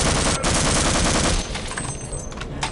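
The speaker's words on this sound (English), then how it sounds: "firing the MP5 in the original, hearing its rough and impactful sound as it sprays bullets like a hose" An MP5 submachine gun in Half-Life sprays a loud, rough, continuous stream of rapid automatic fire that tapers off near the end.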